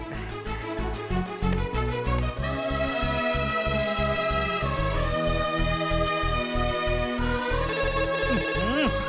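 A phone rings with a loud, insistent electronic melody, a repeating pattern of pulsing tones that plays continuously for about nine seconds, layered over a film soundtrack.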